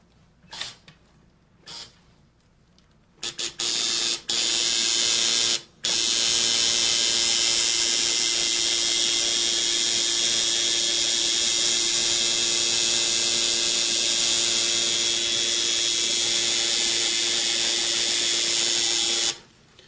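A tattoo machine lining a tattoo starts with a few short taps, then buzzes in a loud, steady, high whine for about fifteen seconds before cutting off, with no talking.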